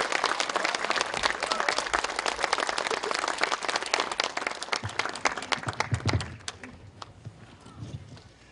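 An audience in a lecture hall applauds to welcome a speaker, sustained dense clapping from many hands that fades out toward the end, with no talk over it.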